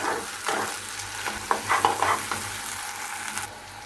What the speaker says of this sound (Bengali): আদা রসুনটা যদি এভাবে ভালোভাবে ভেজে নিই